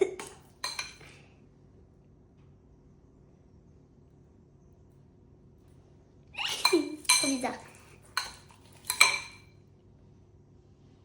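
Brief clinking and scraping of a utensil against a glass bowl holding slime, in a few short bursts, near and fairly loud, with a voice speaking briefly.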